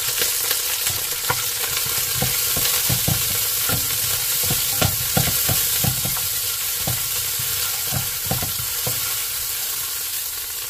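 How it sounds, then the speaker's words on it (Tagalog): Onion sautéing in chili oil, frying steadily with a constant sizzle while a utensil stirs the pan in repeated scraping strokes, close and continuous with no talk. "So, atin na po itong isusute ang ating onion"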